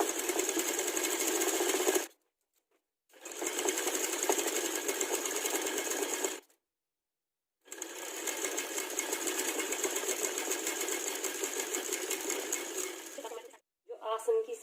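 A sewing machine stitches the side seam of loose palazzo pants in three close, steady bursts of rapid whirring, separated by short silent pauses, with a brief final start at the end.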